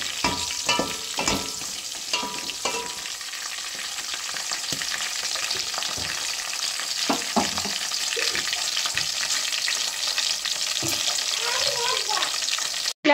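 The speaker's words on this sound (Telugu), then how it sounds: "మిరపకాయని బాగా స్లోగా కదులుచుకుంటూ ఆల్ సైడ్స్ వేగేలాగా వేయించుకోవాలి" Green chillies fry in oil over low heat for a chilli curry, giving a steady crackling sizzle with scraping stirs and light clinks throughout, close and moderately loud, with no talking.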